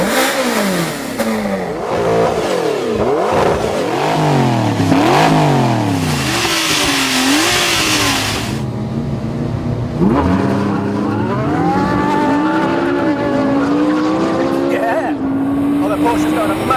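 A sports car engine revs hard in launch control, pitch climbing and dropping in repeated surges before a sustained rising acceleration, loud and close, with a voice speaking underneath.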